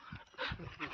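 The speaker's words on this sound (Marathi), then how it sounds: "आणि हे बघा आमचा डॉग" A dog on a farm gives short, close barks and whimpers over about a second, with panting-like breaths in between and no one talking.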